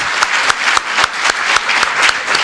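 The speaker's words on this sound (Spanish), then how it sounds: "Agradecemos con este aplauso al doctor Mario Servino." Audience applause for Dr. Mario Zerbino after a talk on school violence: steady, loud massed clapping with sharp individual claps standing out, no voices.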